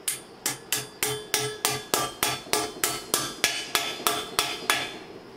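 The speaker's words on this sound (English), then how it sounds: "you take your bearing and you hammer in on the right side first" Hammer blows drive a bearing into the right side of a bicycle bottom bracket, about fifteen sharp metallic strikes at a steady, even rhythm, each ringing briefly, close and alone without talk.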